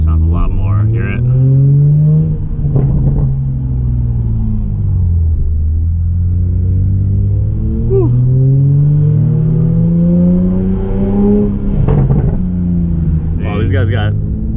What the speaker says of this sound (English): you can put it in sport mode and just kind of opens up the valve.